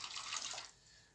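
Hot water for cooking rice pours in a steady, bright splashing stream that fades after under a second to a softer trickle, fairly close and with no one talking.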